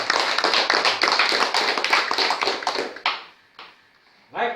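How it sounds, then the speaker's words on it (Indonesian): A small group of women in a maternal mental-health discussion session clap their hands together, brisk and close for about three seconds before trailing off into a few scattered claps and quiet. "mari kita tepuk tangan untuk semua jawaban."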